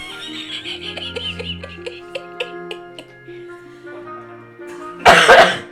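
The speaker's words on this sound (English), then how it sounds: "You're making me cough now" A sudden burst of coughing near the end, loud and close, after a stretch of held musical tones with no speech.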